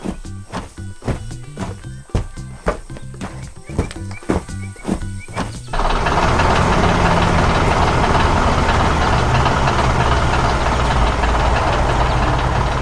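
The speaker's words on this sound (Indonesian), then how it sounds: "Terdengar suara birdring dan suara mesin bekerja" A tractor engine works on a farm, first with rhythmic knocking beats and then shifting to a loud, dense, continuous roar that holds to the end.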